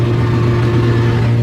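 Ford Granada fitted with a 2JZ Supra engine, heard from inside during a rolling burnout, giving a loud, steady low engine drone without pause.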